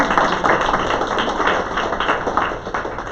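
Steady applause from a seated audience at a sales and marketing meeting, a dense even patter of many hands clapping at moderate distance that carries on throughout without letting up.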